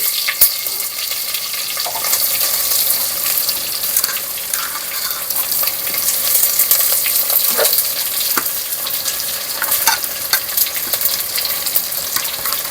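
Chopped onions sizzle and crackle steadily in a hot pan while mutton sukka is cooked, with occasional scraping stirs and clinks, close and continuous throughout.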